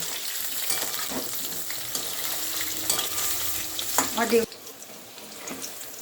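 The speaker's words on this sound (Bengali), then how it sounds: "আমি বেগুনটা লাল লাল করে ভেজে নেব" Eggplant pieces frying in hot oil in a pan, a steady close sizzle with occasional stirring clinks, cutting off abruptly near the end to a quieter background.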